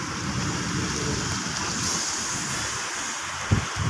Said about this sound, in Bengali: এখন দেখি আরো জোরে করে বৃষ্টিটা চলে আসলো।